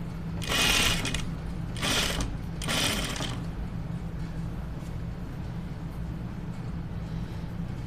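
A sewing machine stitches down eased, ruffled dress fabric in three short bursts of rapid whirring, then a steady low motor hum carries on faintly nearby.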